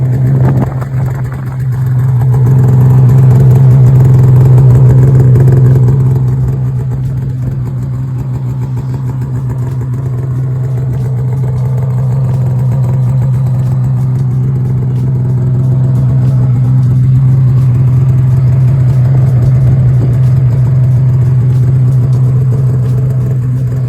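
A brand-new Polaris snowmobile engine, still in break-in, idles with a steady low hum, its revs rising briefly early on before settling back into an even drone. No voices.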